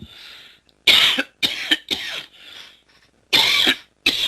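A lecturer discussing the Federalist Papers coughs repeatedly, with about five loud, harsh hacking bursts in an uneven rhythm, close to the microphone, separated by brief pauses and quieter breathy sounds.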